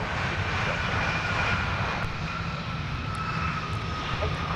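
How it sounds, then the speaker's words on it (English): An Airbus A330-900neo jet at Minneapolis–St. Paul airport produces a steady, loud, broadband engine roar that holds evenly throughout, with no voices over it. "Face to face with the A330 900 Neo. Such a beautiful aircraft."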